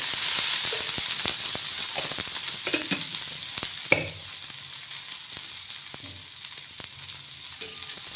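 Ground masala roasting in a little oil in a pan for an egg curry gives a steady, close sizzle with scattered scrapes and taps of stirring throughout, and no voices.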